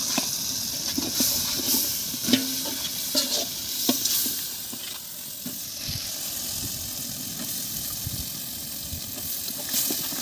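Mushrooms frying in oil with onion and tomato for a village-style mushroom biryani, a steady loud sizzle and hiss broken by scraping stirs of a spoon against the pan, close by.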